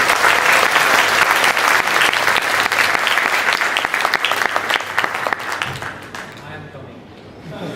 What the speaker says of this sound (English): please give a huge round of applause for Dr. Suleman Shahid